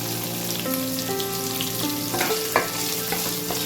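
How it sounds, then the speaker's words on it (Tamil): Onions frying in a pan while being stirred, a dense continuous sizzle with occasional soft scrapes of the spoon, close and steady. "அந்த வெங்காயம் நல்லா ஃப்ரை ஆகும். எப்படி கொஞ்சம் நேரம் கிண்டிகிட்டே இருக்கணும்"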